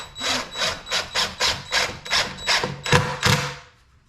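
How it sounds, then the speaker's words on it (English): A screw being driven into a 2x4 for a farmhouse table: a close, rhythmic series of about ten grinding, rasping bursts, evenly paced, as the screw bites and turns through the wood, fading out at the end. "I'll take the screw and I'm going to force it towards the fat part of the wood and downward"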